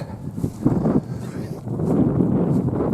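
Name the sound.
strong wind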